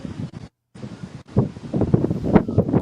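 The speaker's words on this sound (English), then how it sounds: "Oh, and hear the ocean breeze." Ocean breeze and waves at a beach, heard as gusty low wind buffeting the microphone with a rushing roar that cuts out briefly, then returns stronger.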